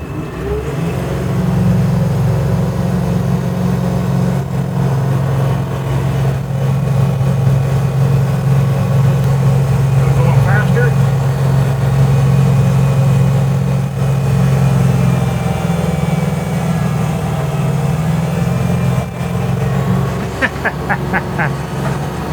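A tractor-driven tiller with a slip clutch runs steadily in a field, its low engine drone and humming drivetrain close and constant throughout, with a few faint rattles near the end.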